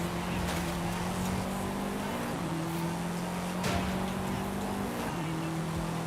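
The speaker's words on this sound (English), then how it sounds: "I hear an LS behind me. Somebody's in an LS." An LS V8-powered car in Forza Horizon 5 drones loudly throughout, its engine note holding steady and then shifting pitch through gear changes, layered with other in-game traffic and road noise.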